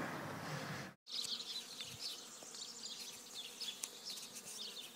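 Honeybees hum steadily around a hive, a dense continuous buzz from many insects nearby, fairly quiet, with a brief dropout early on.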